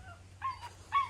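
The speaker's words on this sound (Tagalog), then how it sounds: "si aso." A dog in a rural Philippine province gives a few short, high whimpering yips in quick succession over a low steady hum, near and brief.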